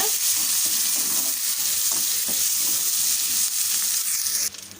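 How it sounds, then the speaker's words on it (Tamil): Ginger, green chilli and curry leaves being stirred into a moong dal and rava batter: a steady, close, wet scraping and swishing that runs continuously, then drops off abruptly near the end, with no talking. "இதோட கூடவே ஒரே ஒரு பச்சை மிளகாயும் கட் பண்ணி வச்சுருக்கோம் உள்ளே சேர்த்துக்கலாம் கொஞ்சமாக கருவேப்பிலை சேர்த்துட்டு கலந்து விட்டுக்கோங்க"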